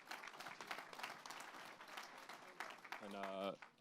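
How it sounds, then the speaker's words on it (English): An audience at a startup event gives a round of applause, with clapping running throughout under a presenter's voice and a brief tonal sound near the end. "give one more big round of applause"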